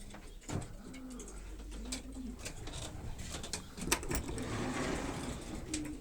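Racing pigeons cooing inside a loft, soft repeated coos from several birds near and moderately far, with scattered wing flutters and knocks from the loft.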